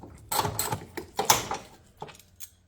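A ratchet works a 10 mm bolt loose from the power steering reservoir bracket in a BMW E30 engine bay, giving a few quick clicking and clattering bursts at close range, then softer metallic taps.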